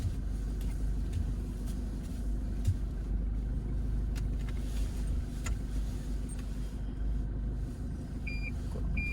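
A car creeps into a parking spot, its engine a steady low rumble close by, with a few faint high beeps near the end.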